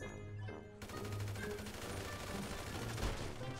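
Rapid gunfire from a sniper fight in the video game GTA V, a dense, loud run of overlapping shots that continues steadily throughout, starting after a brief quieter lead-in.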